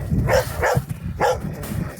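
Dogs bark three times in quick succession, close by, with low background noise between the barks.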